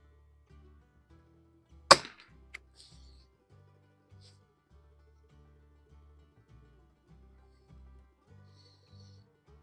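A single sharp crack from a 1916 Remington Target Model 12-C rifle fired at a 50-yard target outdoors, standing out clearly against quiet background.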